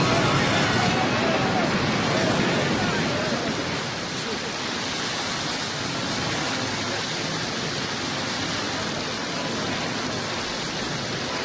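Ocean waves crash in a storm, forming a dense, loud, continuous roar of surf and spray that eases slightly after the first few seconds and then holds steady.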